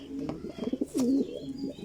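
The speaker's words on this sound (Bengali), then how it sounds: "খুবই সুন্দর কবুতর" A racing pigeon gives a soft, low coo, close by, amid faint rustling.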